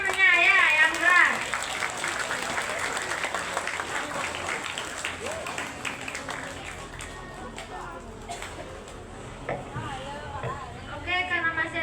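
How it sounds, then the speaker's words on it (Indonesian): Classroom audience of students clapping for a classmate at a school waste-sorting education session, a broad wash of applause mixed with chatter and voices, fading slightly midway before swelling again at the end. "tepuk tangan dulu buat temennya ya"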